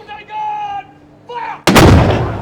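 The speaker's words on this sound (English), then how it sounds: "Today, there are firing ceremonies at midday and 4 p.m." Ceremonial cannon at Malta's midday firing salute, a single loud close blast that cuts in sharply and rumbles away, following a brief stretch of voices.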